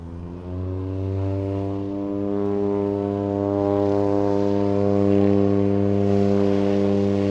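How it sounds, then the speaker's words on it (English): A seaplane engine drones at Victoria Harbour, a steady harmonic hum holding for several seconds at a distance and slowly growing slightly louder, with no other sounds on top. "that seaplane engine in the distance"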